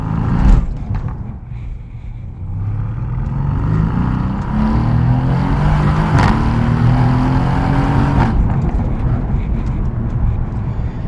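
A car with its exhaust valves opened revving loudly up close, the engine note climbing and holding through several pulls before a sharp drop, with faint voices underneath.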